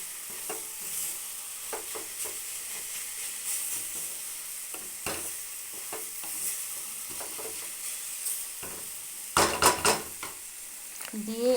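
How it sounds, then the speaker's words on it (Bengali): Dry papaya curry is stirred in a pan with salt just added, a steady hiss of frying overlaid with irregular spatula scrapes and knocks, growing louder and busier near the end. "দিয়ে আবার একটু মিশিয়ে দেবো"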